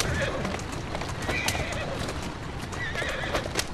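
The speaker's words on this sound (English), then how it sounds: "Good thing about carriages, though, you can definitely make it there a lot faster than just running." A horse-drawn carriage rolls through Victorian London in Assassin's Creed Syndicate, with steady clip-clopping hooves, occasional horse whinnies and cooing pigeons over a busy street bed, all close and fairly loud.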